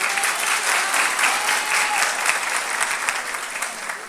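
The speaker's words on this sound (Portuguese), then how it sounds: "Salva de palmas pela vida dela." A church congregation applauds during a sermon, steady dense clapping from many hands filling the room at a loud, even level throughout.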